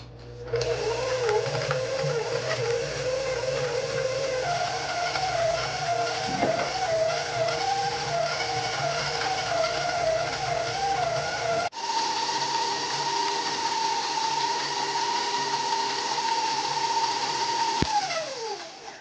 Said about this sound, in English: we're just gonna mix this on like low medium speed for about 10 minutes